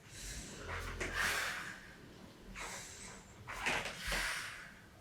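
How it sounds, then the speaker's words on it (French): Deep breaths in and out, two sharp forceful exhalations about two seconds apart, close and fairly loud during a full-body HIIT and abs workout twist exercise, with no talk. "J'inspire ici, j'expire"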